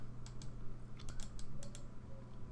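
Rapid clicking from a computer keyboard or mouse during video game play, a quick irregular run of crisp taps over a low steady hum, close and fairly quiet.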